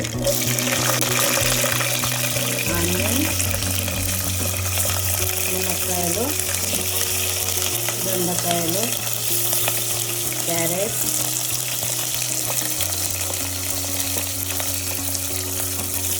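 Dried red chillies, cumin and mustard seeds crackle and sizzle steadily in hot oil, a continuous close frying hiss, with a low tonal hum and faint background voices underneath throughout.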